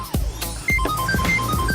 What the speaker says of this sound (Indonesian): Si tua Bangka telepon.